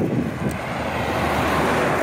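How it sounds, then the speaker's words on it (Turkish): Strong wind buffets the microphone at a roadside rest stop at the Ankara entrance, a steady loud roar with no voices over it. "Rüzgar var, ses var."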